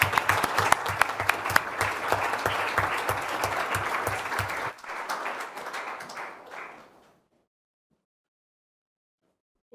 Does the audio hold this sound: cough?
no